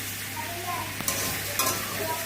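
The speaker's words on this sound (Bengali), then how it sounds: "চাল কুমড়ো ভাজা হয়ে গেল" Steady sizzling of ash gourd frying in a pan, with a couple of brief scraping stirs partway through; no voices.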